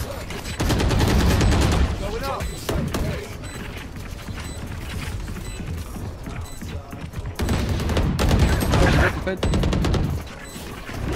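Gunfire in the video game Valorant rattles almost without pause, with dense bursts of shots and crashing impacts. Intensity swells near the start and again toward the end, and voices may be faintly present underneath.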